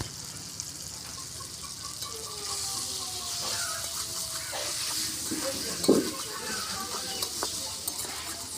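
Eggplant curry being stirred in a cooking pan, a continuous soft sizzle with repeated scraping strokes and a few metallic clinks of the spoon against the pan, no voices.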